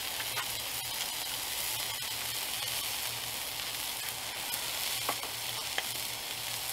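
Eggs sizzling steadily on a hot grill while being cooked for loco moco, a constant close frying crackle with faint scraping stirs and a low hum underneath, no talking.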